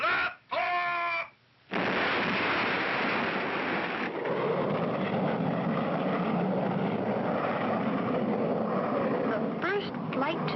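A cartoon rocket blasting off to the moon, a sustained roaring rush that starts abruptly after a short spoken countdown and holds steady, with a voice over the end.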